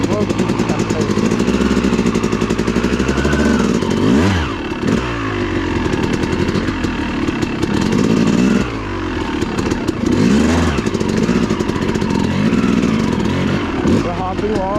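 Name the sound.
enduro dirt bike engine running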